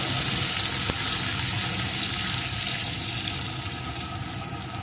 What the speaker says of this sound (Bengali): পেঁয়াজ কুচিটাও একটু ভেজে নেবো